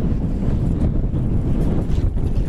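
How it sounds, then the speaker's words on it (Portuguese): Strong wind buffets a fishing boat at sea, a loud continuous roar of wind noise on the microphone with water rushing underneath, and no talk. "é muito vento"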